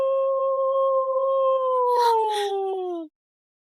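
A man imitates a wolf with a long, steady howling whine that slowly falls in pitch, with rougher growling bursts near the end, loud and close, stopping abruptly.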